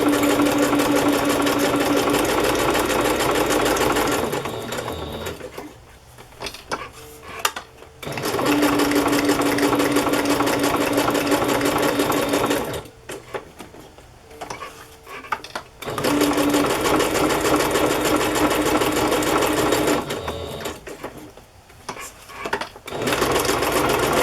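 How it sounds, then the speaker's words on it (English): A sewing machine stitching lace and paper ephemera runs in long steady bursts of rapid mechanical whirring, stopping briefly between runs with quiet handling noises, close and loud with no talk. "After I sew this on, I'm going to add a little lace."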